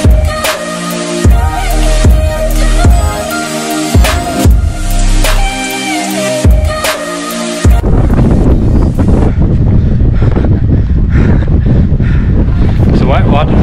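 Loud, rhythmic tonal bursts give way to a steady roar of wet, gusty wind buffeting the microphone on a fell ridge, rushing and gusting up close.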